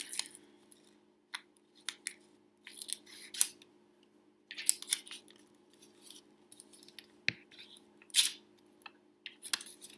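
Scissors trim cardboard for a frame in short, separate snips, with sharp close cuts spaced irregularly between quiet pauses and a few light handling clicks.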